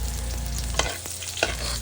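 Garlic sautéing in a pan for ginataang laing, a continuous close sizzle with a low hum underneath and a couple of sharp stirring knocks, no voices.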